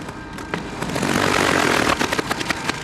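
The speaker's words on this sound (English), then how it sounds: "my motor starts making some horrible sounds" An outboard motor on a fishing boat runs rough and loud, a harsh droning roar with irregular knocks and sputters, rising in the middle and then turning choppy with uneven bursts.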